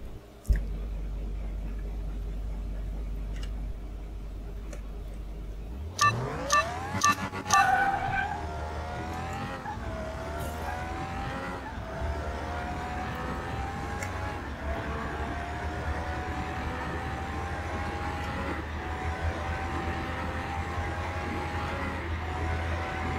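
A Camaro drag racing in Car Mechanic 2021 launches from a low idle rumble into a rising, screaming engine note, with a few sharp shift clicks before a sustained high-revving drone.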